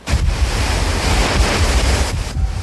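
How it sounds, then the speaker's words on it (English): Strong storm wind gusts during Hurricane Bonnie roar in a loud, broadband rush that buffets the microphone and surges repeatedly, with a surf-like churn underneath and no voices. "all day long, wind gusts were still so strong they continued to toss large chunks of metal across town"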